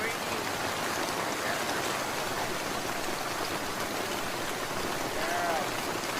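Steady rain falls outdoors as a dense, even hiss of drops on surfaces, constant and moderately loud throughout with no pauses.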